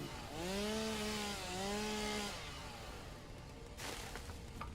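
A chainsaw in the Satisfactory video game runs with a steady, engine-like whine that rises and dips in pitch, loud and alone, then cuts off toward the end.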